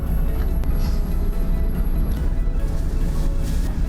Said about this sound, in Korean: 열차는 1분간 정차한 후 경주역을 출발합니다